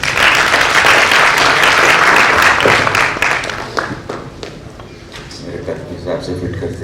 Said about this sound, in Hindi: तो वसीम भाई के लिए एक बार जोरदार ताली